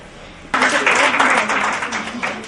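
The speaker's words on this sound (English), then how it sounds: "Clap for North Nazmabad branch." A school conference audience breaks into sudden applause after a short quiet stretch. Many hands clap together in a dense, steady burst that fades slightly toward the end.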